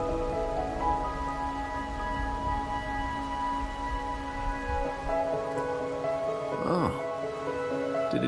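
Steady rain falls at night in Wuthering Waves, a constant soft patter that fills the scene, with a faint pitched swoop and low musical hum underneath.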